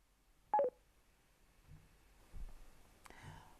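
Telephone keypad dialing tones from a PACKTALK BOLD motorcycle intercom: one short, clear tone burst near the start, followed by a few faint low blips and a brief higher chirp, all quiet and without talk.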